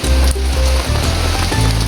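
Heavy rain pours down in a steady, dense hiss, loud and close, with a low rumbling undertone and no voices.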